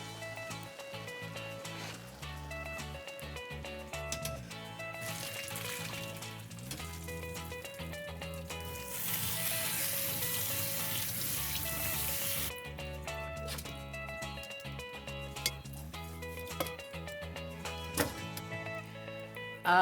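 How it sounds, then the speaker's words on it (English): Cooked soba noodles are drained and rinsed under cold running water, heard as a brief rushing, hissing stream of a few seconds partly masked by steady background music. "The soba noodles are done, and they're ready to be drained and rinsed under cold water."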